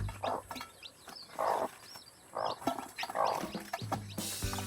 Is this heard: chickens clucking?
yes